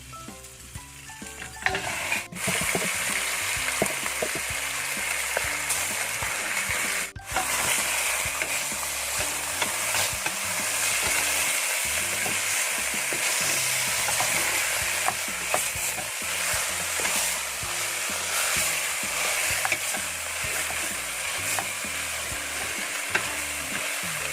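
Marinated pork ribs fry in hot vegetable oil, giving a steady, loud sizzle with bursts of stirring and crackle that go on throughout, close up and with no talking.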